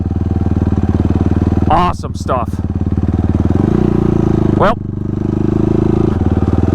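A Yamaha YFZ ATV engine runs steadily close by with a throbbing idle and a brief rev, while someone talks over it.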